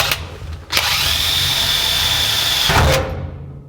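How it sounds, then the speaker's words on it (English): A power drill whirs at a steady high pitch for about two seconds, drilling 1/8 inch pilot holes for a shifter install on a 1949 Chevrolet, starting and stopping abruptly, loud and close. "Drill some 1/8 inch pilot holes."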